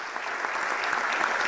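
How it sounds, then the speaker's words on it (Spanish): Steady applause from an audience at the launch event of an agricultural fair, a dense, even wash of clapping lasting throughout without breaks. "Un aplauso también para él."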